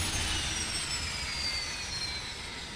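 Twin engines of a Shergood S/H92 helicopter winding down after shutdown, a steady broadband turbine roar with faint high whine tones slowly falling, loud and continuous throughout.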